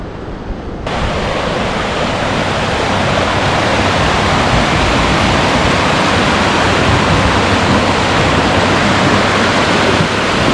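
Steady, loud rushing water roars continuously through a dam at Green Lake, Wisconsin, a dense broadband torrent, with no voices.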